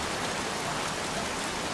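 Steady rain pouring in the video game Heavy Rain, an even hiss of drops on surfaces that runs unbroken and fairly quiet, with no voices over it.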